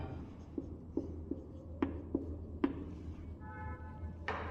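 Pen writing out a maths solution on paper, soft close scratches and light taps in short irregular strokes over a low steady room hum, no talk.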